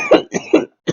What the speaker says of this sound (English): We got the coughing. That is the most important part.